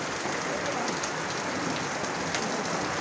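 Heavy rain pours in Thane's Kisan Nagar area, a dense, continuous hiss of drops pelting surfaces close by, steady and loud with no voices.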